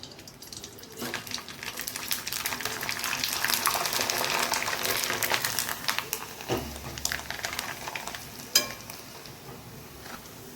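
Traditional jowar papad frying in hot oil, a loud continuous fizzing sizzle that swells and bubbles for several seconds, with a sharp crackle near the end.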